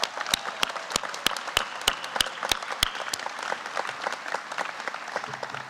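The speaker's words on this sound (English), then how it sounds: "let us all give a big round of applause for Gil" Audience applause for an alumni award recipient at an alumni award gala, opening with a string of distinct sharp claps in a steady rhythm that loosen into a softer, sustained patter of many hands.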